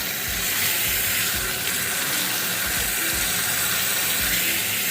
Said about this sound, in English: So this is what I'm doing now, rinsing them off.